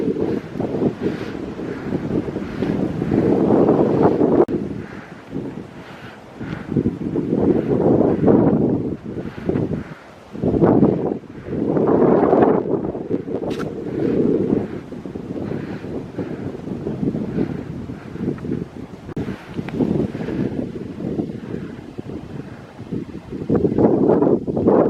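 Strong wind at a park overlook on a cold, cloudy morning buffets the microphone in loud, continuous gusts, rumbling and roaring for the whole stretch with brief lulls.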